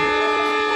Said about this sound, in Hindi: ये हॉर्न दे दिया ड्राइवर ने ट्रेन का